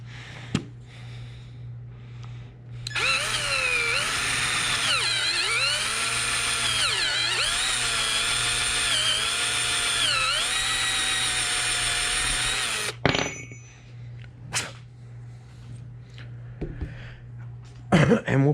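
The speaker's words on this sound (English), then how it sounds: "And drill out a bigger hole." A power drill bores a lead hole in a hand-carved wooden lipless crankbait fishing lure, a loud whining drone that runs for about ten seconds with pitch dips as it bites, then stops, followed by a few clicks and handling sounds.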